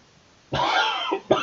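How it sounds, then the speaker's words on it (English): A man coughs nearby, one long rough cough followed by a quick second burst, in a quiet room with a faint background hiss. "excuse me, coughing away here."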